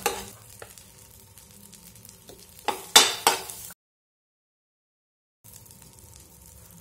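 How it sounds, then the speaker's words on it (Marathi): Butter and oil sizzle in a pan on a tava for a spicy crispy potato sandwich, a steady moderate frying hiss with a few louder bursts and clinks around the middle, then a gap of silence before the sizzle resumes. "आता पॅनमध्ये आपण थोडं बटर टाकूया"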